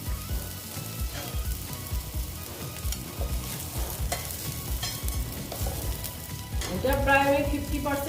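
Bitter gourd frying and being stirred in a pan, with a steady sizzle and the repeated scrape and clatter of a spatula that grows a little louder toward the end, and no talking.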